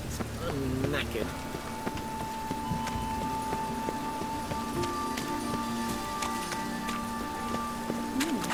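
Rain falling in The Witcher 3, a steady soft patter beneath a speaking voice, with faint clip-clop sounds and tonal game ambience.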